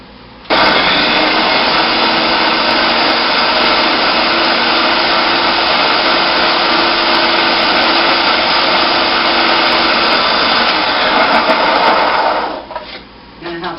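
A blender purees mushrooms with olive oil for meatless meatballs, roaring loud and close in one continuous run of about twelve seconds before it cuts off.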